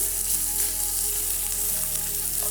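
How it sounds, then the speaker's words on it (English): Sausage frying in oil in a hot pan, a loud continuous sizzle with crackling spatter close by and a low steady hum beneath, no talking. "let's cook off our sausage"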